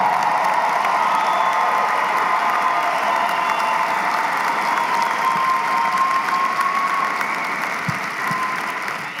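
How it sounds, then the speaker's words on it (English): Sustained applause from a large commencement audience of about 1,500 graduates and their families at a STEM graduation ceremony, a dense steady roar of clapping that runs the whole time and eases slightly near the end. "stand up while we applaud your accomplishment"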